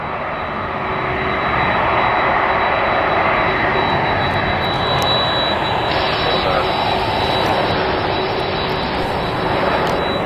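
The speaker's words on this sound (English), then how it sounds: "There's our FedEx 767-300. They'll be flying to Memphis." A FedEx Boeing 767-300 jet takes off from Seattle, bound for Memphis. Its engines give a loud, continuous roar that holds steady for the whole stretch, with no voices over it.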